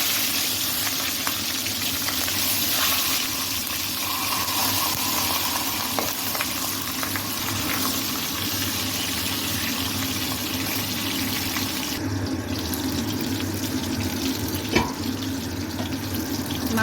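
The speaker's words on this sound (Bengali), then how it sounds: "তেলটা গরম হয়ে গেছে মাছের মুড়োটা ভেজে নেব" Loud, continuous sizzling and crackling of a fish head frying in hot oil, close up, with a few faint clinks over the hiss.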